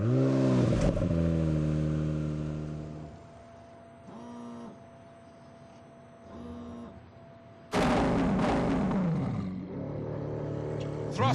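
A 730-horsepower old car with no electrical aids: a loud, rumbling engine rev, a quieter idling stretch, then a sudden roaring surge of acceleration that stays loud to the end.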